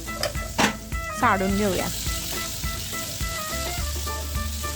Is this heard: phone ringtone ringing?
no